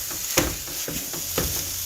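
Ground meat browning in a hot pan, a constant close sizzle broken by regular scraping and chopping strokes of a utensil roughly every quarter second.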